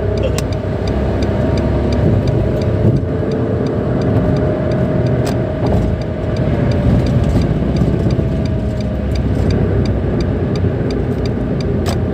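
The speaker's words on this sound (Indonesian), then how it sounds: "Itu mobil Nissan March doang 1200 cc" A Nissan March 1.2 L with manual gearbox runs steadily near the listener, its engine hum continuous and moderately loud with road or cabin rumble beneath, no voices present.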